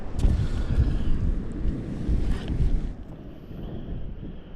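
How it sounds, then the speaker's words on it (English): Outdoor wind buffeting a microphone, a low rumbling, gusty roar that stays loud for about three seconds and then eases to a softer rush, with no talk. "this wind is getting really chilly"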